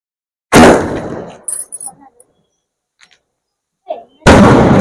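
A sharp, loud Sivakasi fancy firecracker blast bursts out, followed by crackling debris and a quiet pause, then another loud bang erupts near the end.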